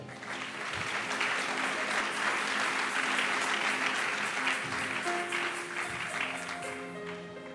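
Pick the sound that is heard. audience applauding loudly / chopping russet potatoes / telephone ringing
audience applauding loudly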